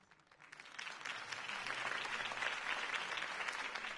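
A crowd bursts into applause after Harvey Dent's campaign speech in the Batman Telltale video game, the clapping swelling in quickly and holding as a dense, even roar.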